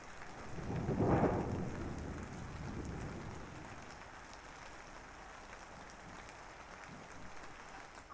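Heavy, steady rain pours down around a rural homestay in the Borneo highlands, with a loud rumble of thunder near the start before the downpour continues as a constant wash.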